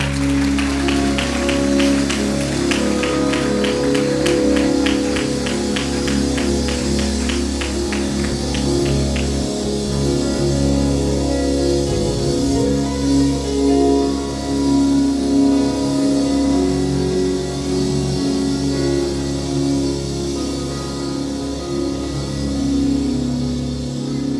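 A church congregation applauds steadily for the whole stretch, a dense, even patter of many hands filling the room with no talk on top.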